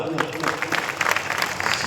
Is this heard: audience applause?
yes